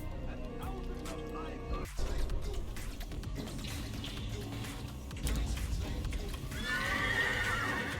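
In Assassin's Creed gameplay, a horse whinnies and snorts close by over clip-clopping hooves and game background sound, while a player talks over it.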